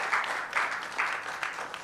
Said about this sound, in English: a big round of applause for the CMC who have worked very closely in the last 1 year.